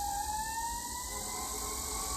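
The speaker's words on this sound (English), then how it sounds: "siren coming through." An emergency vehicle siren wails in a brief rising tone, moderately distant and steady, over a constant hiss of traffic and street noise, with no one talking.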